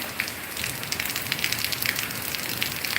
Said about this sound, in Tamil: இன்றைக்கி நல்ல மழை ஆமாம்